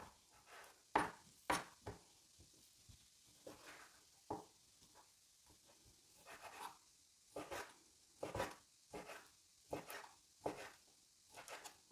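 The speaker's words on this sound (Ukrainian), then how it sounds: "Нарізаю так само на такі невеликі шматочки" A knife chopping chicken fillet into small pieces taps a cutting board in irregular, quiet chops, each cut a short crisp knock, with soft scraping in between.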